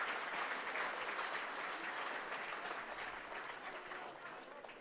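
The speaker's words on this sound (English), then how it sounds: "Round of applause is for Josh Bowden, who's had a good stint, leaving the field just below us" Stadium crowd applauding Wakefield Trinity player Josh Bowden leaving the field during an 1895 Cup rugby league match against Newcastle Thunder, a dense, continuous ripple of distant clapping that fades slightly toward the end.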